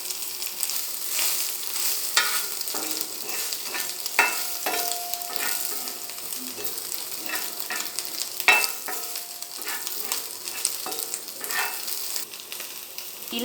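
Soya chunks (meal maker) frying in oil until golden, a steady close sizzle broken by occasional scrapes and clinks from stirring, with no voices.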